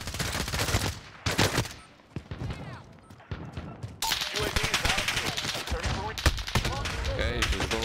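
Rapid bursts of Call of Duty: Warzone gunfire crackle loudly, with automatic fire and sharp shots layered over a voice speaking in the mix.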